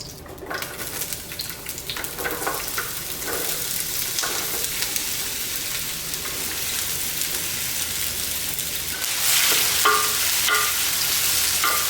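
Vegetables frying in hot oil in a pan for chipotle chili give a steady, close sizzle with soft crackles, growing louder and brighter near the end.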